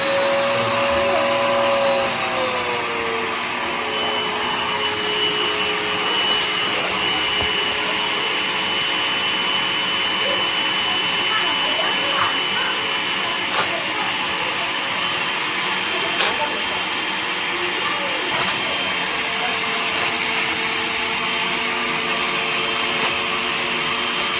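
A vacuum cleaner run at home by an 18-month-old toddler drones loudly and steadily for the whole stretch, a continuous whining motor hum with small shifts in pitch, with no speech over it.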